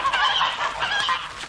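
Geese in a yard honk and hiss in a close, busy cluster of harsh overlapping calls, loud and continuous with no talk over them.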